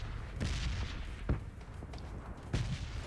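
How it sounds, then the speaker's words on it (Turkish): Red zone bombs exploding in the video game PUBG Mobile on the Miramar map, several muffled distant booms thudding at irregular intervals, faint and without talk. "Bombalar patlıyor."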